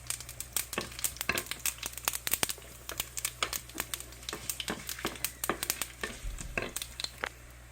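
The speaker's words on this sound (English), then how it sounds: "I can hear the mustard spluttering" Mustard seeds spluttering in hot oil for tomato rasam, a dense run of sharp crackling pops over a low hum, close and continuous.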